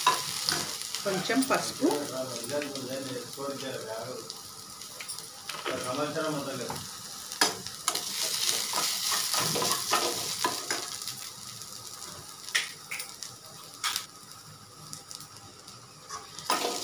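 Sprouted grains and spices being fried and stirred in a pan, with steady sizzling and repeated scraping of a spoon against the pan, while someone talks over the cooking.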